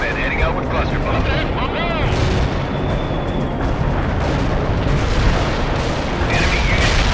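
A heavy artillery barrage in World in Conflict pounds continuously, a dense wall of booming impacts and rumbling blasts that never lets up, with radio-style voices speaking over it.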